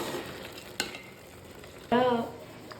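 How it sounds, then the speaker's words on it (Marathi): Carrot halwa with jaggery being stirred in a pan while its liquid cooks off: a soft sizzle under a sharp utensil scrape, then a louder, brief tonal scraping squeal against the pan. "आता ह्यातलं पाणी मुरेपर्यंत मी मस्त त्याला हलवत राहणार आहे."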